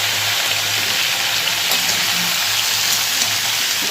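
Vegetables fry in oil after a tempering of black seeds and dried red chillies, making a dense, loud, even hiss that carries on without pause, like steady rain.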